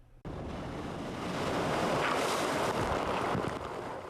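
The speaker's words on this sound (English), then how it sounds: "You'll also see waves crashing on the windows at the Marine Room and sightseers getting soaked in Ocean Beach." Heavy storm surf surging and crashing against the windows of a seaside restaurant in San Diego, a loud continuous roar of churning water and spray with wind buffeting, swelling in intensity partway through.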